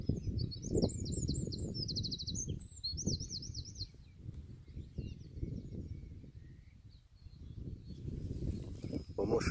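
Birds chirp and whistle in short bursts in the morning on a windy hillside, fairly close at first and thinning out later, over steady low wind rumble.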